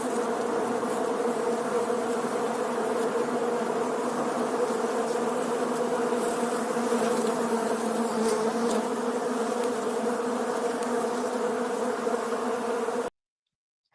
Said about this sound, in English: Let me get the bees ready.